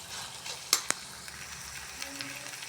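Green gram stir-fry being stirred in a pan, a faint soft sizzle with a couple of sharp spatula clinks early on and light scraping afterward.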